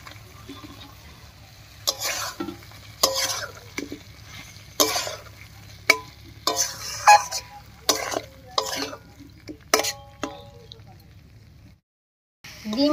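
Fried eggs and pointed gourd are stirred into a garam masala spice paste in a pan, with close spatula scrapes coming in irregular bursts over a low, steady sizzle.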